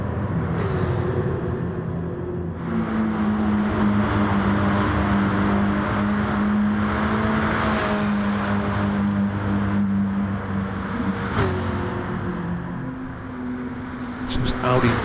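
Audi and Volkswagen race cars in Gran Turismo Sport roar through the clip with sustained engine tones rising and falling as they shift gears, running under ongoing commentary.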